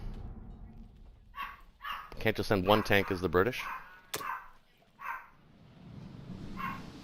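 A dog at home barks and yips in short bursts at intervals, while someone talks over it during a game session.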